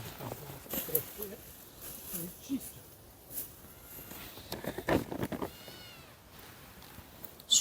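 Cats meowing on a Ukrainian village farm, several short meows scattered through the clip amid rustling and footsteps, with people talking over them.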